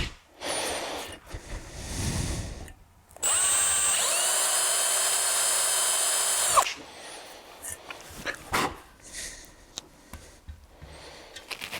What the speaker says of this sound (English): So we get a 2mm drill